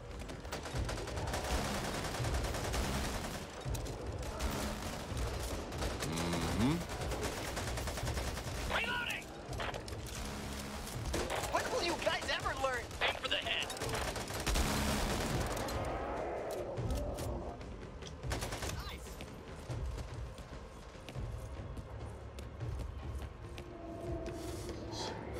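Gunfire from the zombie shooter Back 4 Blood crackles in dense, continuous bursts over about twenty-five seconds, thinning out toward the end, with excited talk mixed in.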